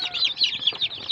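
Newly hatched Rhode Island chicks peep in a steady stream of high, overlapping chirps. They sound close and fairly loud, and no voices can be heard.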